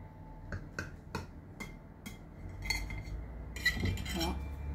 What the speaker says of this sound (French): Je viens couper mon gâteau.